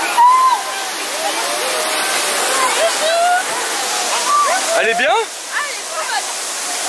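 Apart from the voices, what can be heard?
waterfall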